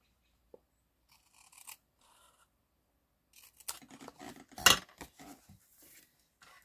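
Designer cardstock for a one-horse open sleigh card is trimmed with scissors in a quiet room: a few faint snips first, then a cluster of sharper, closer cuts and paper rustles, with one loud snip standing out.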